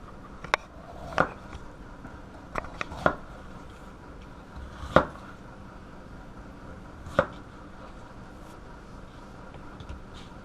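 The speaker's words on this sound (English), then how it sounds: "Then I'd like to take it and flip it up like this, and I start making slices." A knife slices through bell pepper on a cutting board in an outdoor cooking setting, producing a handful of crisp, irregular chops that land on the board with quiet pauses between them.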